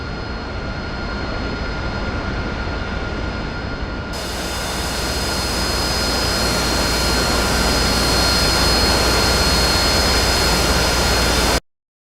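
Harrier jet engine in the DCS flight simulator game: a loud, steady roar with a high whine that steps up in intensity partway through and holds until it cuts off abruptly, with no voices.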